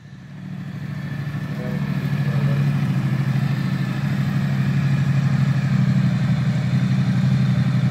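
A motorcycle engine idles with a steady low, throbbing putter that builds in the first seconds and then holds evenly close by.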